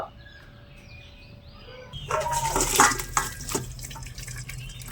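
Boiled young jackfruit drained in a kitchen as the excess water is strained off: a splashing pour starts after a quiet moment and lasts a few seconds, with faint bird calls in the background.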